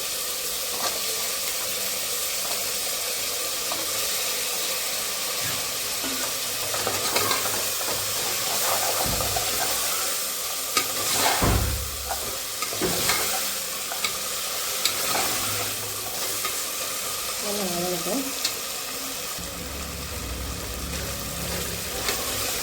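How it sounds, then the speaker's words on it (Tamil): Carrots and beans sauté in a pan for vegetable biryani, a steady close sizzle broken by intermittent stirring scrapes and clatters, with no talking. "காயெல்லாம் நல்லா வதங்கிடுச்சு."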